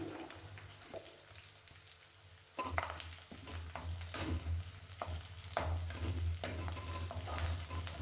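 Green chillies and curry leaves frying in hot oil for a Telugu spicy chicken fry, giving a steady close sizzle with stirring scrapes that grows louder partway through, no voices.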